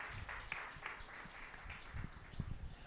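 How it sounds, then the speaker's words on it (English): Steady applause from a crowd at a college fashion show, many hands clapping together at a moderate, even level throughout. "Can we have a round of applause for them, please?"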